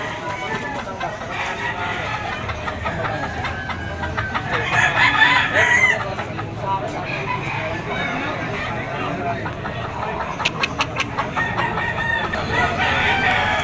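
Roosters and chickens at the Malabon pet market crow and cluck repeatedly at close range, with busy market noise and someone talking alongside the birds.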